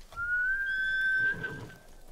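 In Ghost of Tsushima, a horse gives a single high, drawn-out whinny-like call lasting about a second, clear over faint game ambience with a soft rustle afterward.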